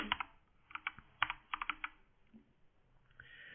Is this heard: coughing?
no